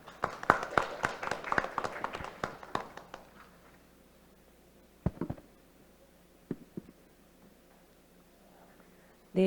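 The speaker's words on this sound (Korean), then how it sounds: "박수로 맞아주시면 감사하겠습니다." A small forum audience gives brief, sparse applause for a presenter, with about three seconds of individual claps followed by a few isolated claps and taps in an otherwise quiet room.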